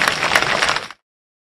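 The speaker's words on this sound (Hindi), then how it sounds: "जरा इनके लिए भी ताली बजाओ" Audience applause at a political rally, a bright, dense burst of many hands clapping that stays loud for about a second and then cuts off abruptly into silence.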